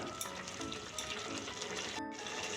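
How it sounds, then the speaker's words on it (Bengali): Pineapple chutney with soaked raisins sizzles steadily in a pan over low to medium heat, with soft scraping and stirring sounds running throughout. "এখন অনবরত নেড়ে চেড়ে আমি চাটনিটা রান্না করে নেব।"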